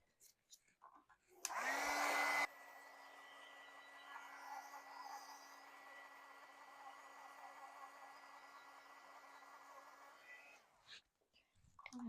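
A handheld drying tool blows over a sprayed card in a steady, close whooshing roar with a faint motor whine, starting with a brief louder burst and running for several seconds before cutting off.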